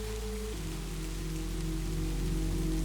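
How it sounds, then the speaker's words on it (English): Steady rain falls continuously on a surface, an even close hiss alone under a low background hum. "I hope the sound of the rain doesn't linger too long after this one ends"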